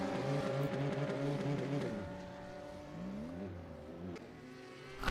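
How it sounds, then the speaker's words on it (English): A GT3 race car in a racing video game at Daytona Road Course, its engine loud and close, revving and falling through the gears as it spins, with a tire squeal. "He misses the chicane and spins the car."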